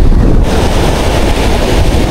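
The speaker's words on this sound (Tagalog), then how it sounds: "Ang laki ng mga alon dito buddy." Loud, continuous roar of large ocean waves crashing nearby, heavy wind buffeting the microphone throughout with no pauses.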